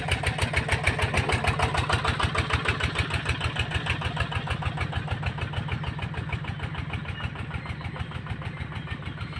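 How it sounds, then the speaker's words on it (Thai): A Ford diesel tractor engine chugs steadily nearby while levelling ground, in a fast, even rhythm, running continuously without changing pace. "เดี๋ยวลุงน้อยก็จะหารถไถมาเคียมไถ"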